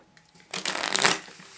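A deck of Artifice Green playing cards riffle-shuffled up close, a quick crisp burst of flicking cards lasting about half a second, followed by a short soft settle.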